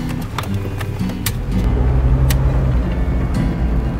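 A Jeep on its first test drive after purchase, its engine running with a low steady rumble that grows louder partway through, with a few sharp clicks and knocks from inside the cabin.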